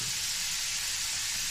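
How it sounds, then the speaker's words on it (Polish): Chicken meat sizzles in a frying pan as its released water steams off, a steady close hiss and crackle with no talking. "Niech to się smaży"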